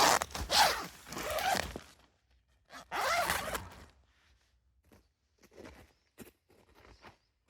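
The zipper of a cheap backpacking tent in winter is pulled in two long, rasping strokes close by, followed by quieter rustles and brief scrapes.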